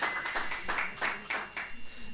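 Applause from a church congregation during a Sunday service, a thin scattering of claps in several uneven bursts, moderately distant and somewhat faint.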